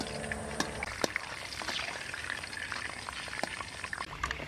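Sitabhog sweets deep-frying in hot oil, a steady dense bubbling and crackle with scattered sharp pops throughout, continuous and fairly close.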